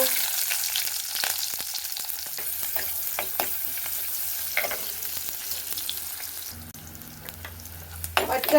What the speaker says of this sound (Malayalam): ഉള്ളി ഇട്ടു